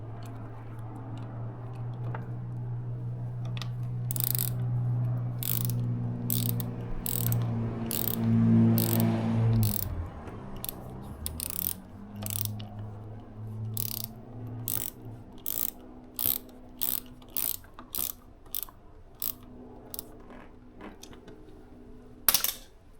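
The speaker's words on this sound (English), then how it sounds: "all you need to do is just tighten the 10mm nut" A ratchet tightens the 10mm nut on a lever of a Suzuki GSXR750 motorcycle, giving a long run of evenly spaced sharp clicks at close range. A steady low hum sits underneath early on, and no one talks.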